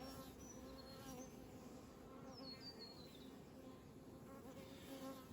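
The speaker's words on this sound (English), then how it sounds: "That's good, there's plenty of bees in there." Honey bees in a nucleus hive hum softly and steadily, a faint, even buzz close by with no talking.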